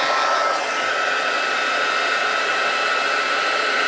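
A heat tool blows hot air steadily over paper to dry it for letterpress card making, producing a loud, constant whooshing hiss that runs unbroken from start to end with no voices.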